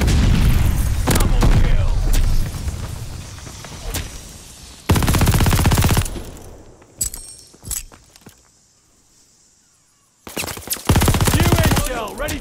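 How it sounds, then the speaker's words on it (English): Gunfire and a stun grenade blast in the Call of Duty: Vanguard game: loud bursts of rapid automatic fire and booms, broken by quieter stretches of scattered clicks and thuds, then another heavy volley. "Throwing stun grenade!"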